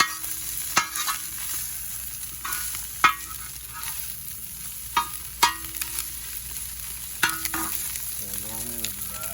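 Food is stirred in a pan at a campsite in McKinney Falls State Park, Austin, Texas: a quiet sizzling bed punctuated every second or so by sharp metallic scrapes and clinks of a utensil against the pan.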